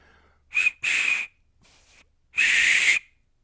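A homemade wooden whistle turned on a lathe gives three breathy, airy blasts of uneven length, with a faint pitched tone under the rush of air and silence between them.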